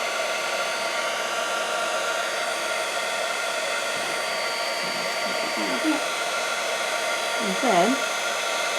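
A heat tool blows hot air onto shrink film in a continuous, moderately loud whir, with a person talking briefly over it near the end.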